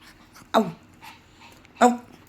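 A puppy gives two short, high whimpers close by, with faint panting between them, in a quiet setting.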